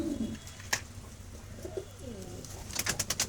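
Soft pigeon coos rise and fall at a moderate distance from a flock of kept pigeons, with a few sharp clicks and chirps, including a quick burst near the end.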